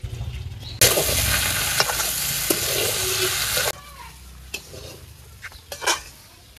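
Taro pieces stir-fried in a pan over a village stove, a loud steady sizzle broken by spatula scrapes and clinks that cuts off suddenly, leaving quieter scraping and pot knocks.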